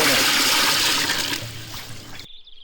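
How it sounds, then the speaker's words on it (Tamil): Water poured into a cooking pot set on a lit stove in a village kitchen, a loud rushing splash close by that weakens and ends abruptly, with a brief faint tone after it. "தண்ணியை ஊத்து."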